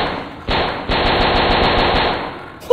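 Rapid automatic gunfire from a hunting-style video game, a dense stream of evenly spaced shots that runs loud and unbroken for about two seconds, then cuts off.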